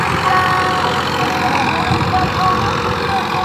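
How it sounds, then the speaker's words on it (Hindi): A Massey Ferguson 1035 DI 35 hp tractor engine runs steadily while pulling a ten-tine cultivator in a field, its continuous low rumble heard up close, with someone talking over it. "अभी ये जो ट्रैक्टर चल रहा है ये है 9 फाड़ी के कल्टीवेटरों पर"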